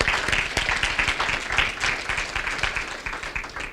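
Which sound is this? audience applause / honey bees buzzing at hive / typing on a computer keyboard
audience applause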